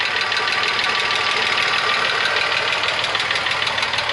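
A VW Passat Variant 35i with a VR6 engine that has been making strange noises idles steadily after about ten minutes of running, giving a constant, close mechanical hum with a fine rattling texture and no pauses or talk.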